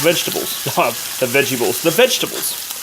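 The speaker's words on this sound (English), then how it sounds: "as the chicken is cooking up" Chicken sizzles in a pan for a homemade stir-fry, a steady broadband frying hiss running under continuous talking.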